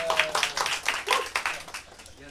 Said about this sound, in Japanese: はい、ここで大拍手が。